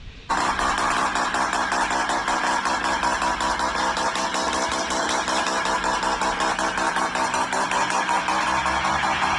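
Car with a rotary 20B engine running, a steady buzzing, slightly lumpy drone that holds loud and even from start to end after a brief quieter moment, heard as playback with no talk.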